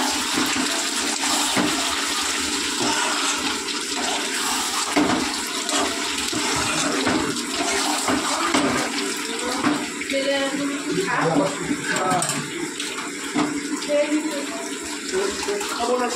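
Hot water is poured into a sautéed curry in a cooking pot, making a sustained close splashing and gushing rush that lasts the whole stretch, with people talking in the background.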